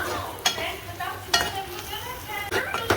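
Prawns tossed in hot oil with salt, chilli powder and garam masala, giving a steady close sizzle with scraping stirs and a few sharper clatters of the spatula against the pan.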